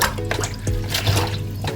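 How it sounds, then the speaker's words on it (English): Washed fresh vegetables for pakora being squeezed by hand, giving close, wet squelching and dribbling water sounds in a steady, continuous stream. "Squeezing out as much water as possible."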